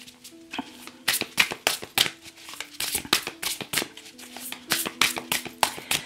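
Tarot cards are shuffled by hand for a reading, with a rapid series of crisp riffling and slapping bursts in a quick, uneven rhythm, recorded close with no talking.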